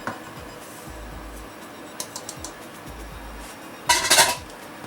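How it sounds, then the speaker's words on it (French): Egg yolks and sugar being whisked in a bowl for a chocolate charlotte, heard as scattered metallic clinks and taps of the whisk against the bowl, ending in a louder burst of rapid rattling strokes. "Maintenant, on va mélanger le sucre avec les jaunes d'œufs."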